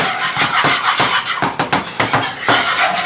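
Rapid metallic scraping and clinking of a whisk against a pan while butter is worked into a blanc sauce, loud and close, with an uneven, busy rhythm throughout.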